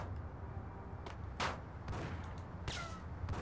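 Sniper rifle shots ring out in the PS2 game Max Payne: a few sharp, spaced cracks over a low steady background rumble, each shot brief and fairly loud against quiet ambience.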